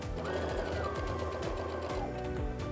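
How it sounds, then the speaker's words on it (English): A sewing machine runs steadily, stitching down the middle of a strip of rickrack on a half apron, a close, continuous rapid mechanical whir with no pauses. "we're just gonna sew down the middle of that rickrack"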